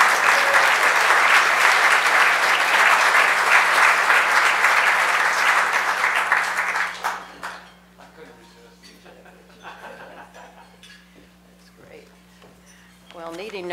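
Loud sustained applause from a conference audience greeting an award speaker at a policy event, steady clapping for about seven seconds before fading to quiet room noise.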